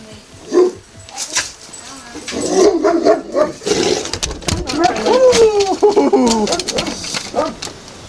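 A big dog barks in several loud bursts near a rural home with a rooster around, mixed with bird calls and people talking over it.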